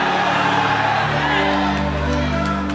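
A church congregation shouts and cheers together in a loud, sustained wave of voices filling the sanctuary, with a steady hum underneath.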